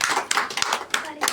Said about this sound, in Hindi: पूरे जोरदार तालियां